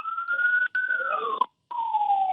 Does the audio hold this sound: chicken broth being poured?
no